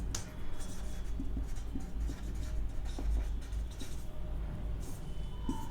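Pen scratching steadily across a board or paper while working through accounting entries, close and continuous with small taps and strokes over a low background hum.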